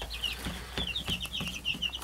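Chickens cluck repeatedly inside a backyard chicken run, short bright calls coming in a steady irregular stream at moderate loudness, with no talk over them.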